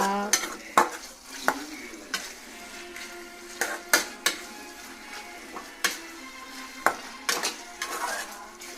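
Pasta being stirred in a frying pan, with a utensil scraping and clacking against the pan in irregular strokes over a soft background sizzle.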